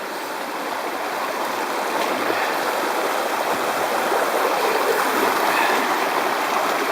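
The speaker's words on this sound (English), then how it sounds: "I'm going to go down and take a look at the river." A river rushes through the White Mountains forest in a steady, full, continuous roar of flowing water. It sounds close and unbroken, with no voices.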